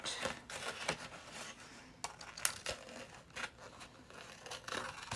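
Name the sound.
scissors fussy cutting paper angel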